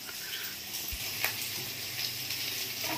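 Chicken and onions fry in a pan for a curry, giving a steady, close sizzle with a soft spatter and a brief stir, and no talking over it.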